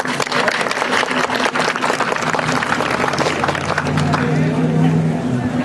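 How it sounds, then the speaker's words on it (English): Crowd at an outdoor Relay for Life cancer fundraiser opening ceremony claps in a dense burst that fades after a few seconds into murmuring chatter and background noise. "let's give her a round of applause"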